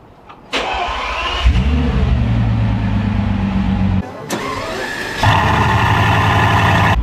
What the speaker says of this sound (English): the car when it starts sounds like a Veyron as well